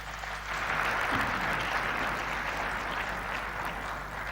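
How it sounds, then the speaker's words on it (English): A summit audience applauding its panel: a broad, even wash of clapping that sounds somewhat distant over a constant low hum and holds through the whole span. "Please give them a round of applause."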